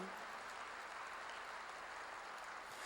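Church congregation applauding during a sermon, a steady dense wash of many hands clapping that stays even and fairly faint throughout, with no talk over it.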